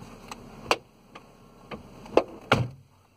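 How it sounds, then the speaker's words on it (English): The driver's door of a 2007 Vauxhall Vectra is unlatched and opened, giving a short series of sharp clicks and a couple of louder latch clunks, close by and with no talking. "Open the driver's door."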